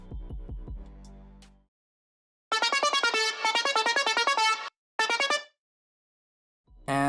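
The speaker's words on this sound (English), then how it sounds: "let's automate this cutoff, like so that you know it can create that sucking effect" Bright, buzzy synth lead with an automated filter cutoff sweep plays a rapid rhythmic pattern, cutting off abruptly, then a short second burst; earlier a low droning tone fades away before it.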